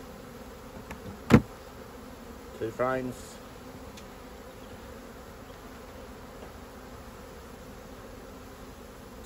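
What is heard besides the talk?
honeybees buzzing around an open hive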